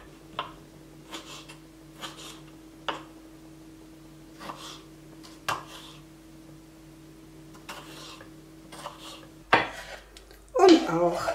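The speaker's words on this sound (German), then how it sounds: "Und die Pflaumen werden wir auch vom Kern entfernen und auch in die Stücke schneiden." Plums are pitted and cut into pieces on a plate for an autumn fruit cake: a knife taps and scrapes against the plate in sparse, close clicks over a low hum, ending in louder clattering.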